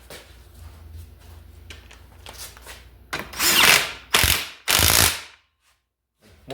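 A ratchet tightens a new, slightly longer bolt on a 1965 Mustang door: several soft clicking strokes, then three loud, fast ratcheting bursts close by, followed by silence.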